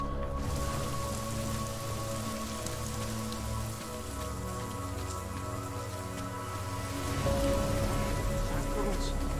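Steady rain in a video game (Deus Ex: Mankind Divided) patters on a surface, continuous and fairly loud, with a low hum underneath and no breaks.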